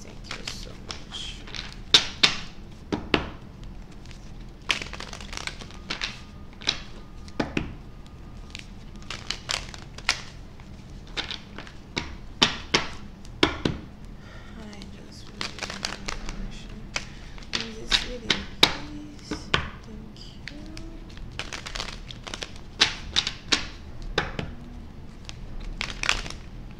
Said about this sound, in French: Les cartes sont difficiles à battre aujourd'hui.